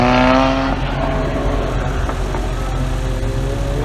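A restored Toyota AE86 Levin engine on the move at the Bihoku circuit, a loud close rasping drone that starts with a strong high rev then settles into a rough, steady running roar, no talk.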